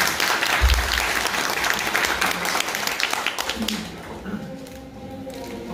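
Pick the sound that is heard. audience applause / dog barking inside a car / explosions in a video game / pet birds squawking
audience applause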